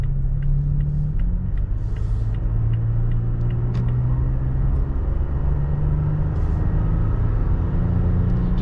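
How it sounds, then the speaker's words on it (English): Interior road noise of a 2020 Toyota Tacoma Sport pickup truck pulling onto a highway under gentle acceleration, a steady close low rumble of engine and tires that holds at an even level throughout, with no talking. "Just a normal acceleration here onto the highway without even pushing it."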